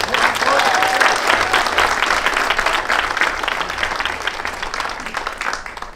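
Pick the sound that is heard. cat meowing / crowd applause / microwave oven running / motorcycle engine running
crowd applause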